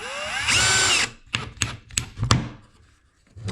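A power drill drives a 1.25 inch drywall screw into a wall in one loud, close whirring burst, followed by several sharp knocks and thunks.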